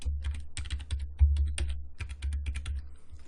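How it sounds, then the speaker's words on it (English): Close, crisp keystrokes on a computer keyboard as a password is entered, a short run of uneven clicks over about three seconds with no talking. "I'm going to type that password in again"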